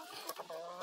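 Chickens in a backyard garden give short, soft clucks and murmurs in a quick run of notes. They sound close but quiet, with no talk over them.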